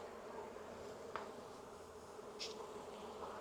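Honeybees buzz around an open beehive, a faint, continuous hum with occasional individual bees passing closer, no talking.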